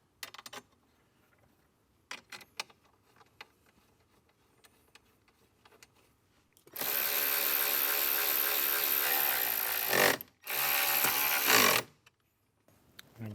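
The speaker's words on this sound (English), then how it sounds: "Go ahead and put these two 10mm bolts in." A powered ratchet drives two 10mm bolts home inside a 2024 Jeep Wrangler. Quiet clicks and handling noises come first, then two loud, close, continuous whirring bursts of several seconds each, separated by a short pause.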